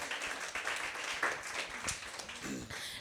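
An audience at an event celebrating a Black marketplace claps in a short, scattered burst of applause close to the microphone.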